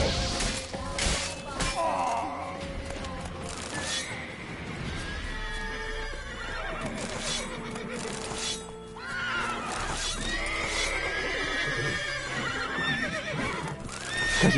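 A horse in The Witcher 3 neighs and whinnies repeatedly, loud and near, alongside hoof clip-clops, thwacking hits and other game effects.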